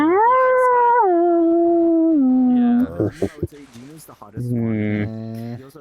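A pet dog howls in long, drawn-out wavering tones close up, breaking into yips and whimpering howls, with a person talking softly to it in between.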